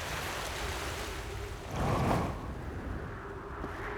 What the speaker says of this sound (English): Oh yeah, you can hear wind come through here.